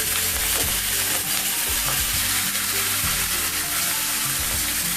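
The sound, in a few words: chicken frying in coconut oil in a frying pan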